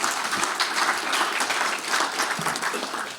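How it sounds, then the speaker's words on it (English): Loud, dense audience applause filling a keynote hall, continuous clapping from a large crowd with no break, steady in level from start to finish. "Give this guy a round of applause"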